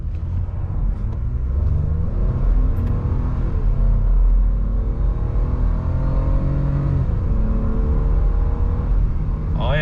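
A pickup truck hauling a heavy trailer speeds up on the road. The engine note rises and falls in loud, continuous revving, with no speech.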